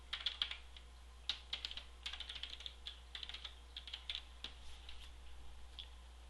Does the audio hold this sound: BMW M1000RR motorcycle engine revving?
no